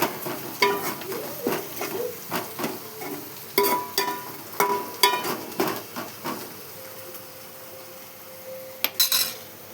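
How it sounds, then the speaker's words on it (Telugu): Ginger and turmeric fry in a pan on the stove while a utensil scrapes and stirs them, giving a run of clinking, scraping knocks over a soft, steady sizzle, with no talk. "అల్లం, పసుపు వేసుకోవాలి గోల్డ్ కలర్ దానికి. గోల్డ్ కలర్ వచ్చేదాకా వేయించుకోవాలి."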